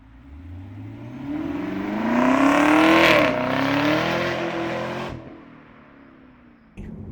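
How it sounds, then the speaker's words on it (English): A Camaro ZL1 engine revs up loudly while driving, its pitch climbing and holding in a strong drone before easing off and settling to a lower hum. "Oh, the car sounds so good."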